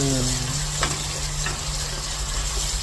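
Onions fry in hot oil for spicy mutton (goat) biryani: a loud, steady sizzle close by, with a brief stirring scrape partway through.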